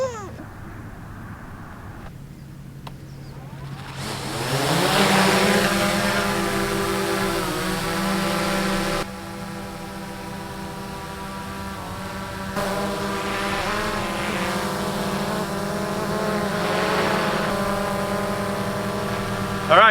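A DJI Mavic 2 Pro drone with four new propellers spins up and hovers outdoors, a loud steady whine with rising and shifting harmonic tones that holds throughout.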